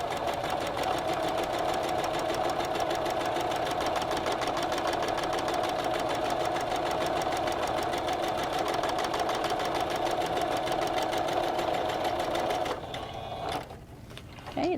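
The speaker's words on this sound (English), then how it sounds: "So we're just going to single stitch all the way down." A sewing machine single-stitching a quarter-inch seam down a fabric PPE mask, a fast, even mechanical whir running steadily and close, then stopping near the end with a few handling clicks.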